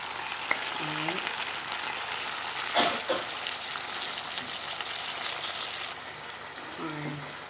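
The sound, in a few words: stirring salt mackerel into cooking coconut milk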